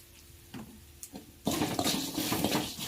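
Peanuts and asafoetida tempering frying in a pan for lemon rice, starting with a few soft clinks and stirs, then a sudden loud burst of sizzling that stays dense and close to the end.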